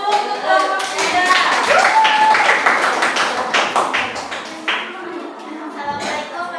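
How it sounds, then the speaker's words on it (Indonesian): A classroom group of participants claps for a presenting group, a lively burst of many hands slapping together close by, with voices calling out over the applause before it thins out. "Beri tepuk tangan dulu untuk kelompok 3."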